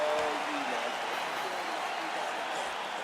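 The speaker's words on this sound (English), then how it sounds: "So the crowd voicing its appreciation after that round." A virtual arena crowd in EA Sports UFC 4 applauds and roars after a round, a steady broad wash of noise at fairly even loudness with faint tonal murmurs, no speech.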